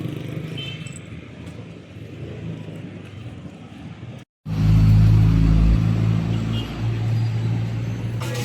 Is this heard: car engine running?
yes